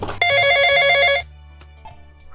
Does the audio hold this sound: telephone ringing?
yes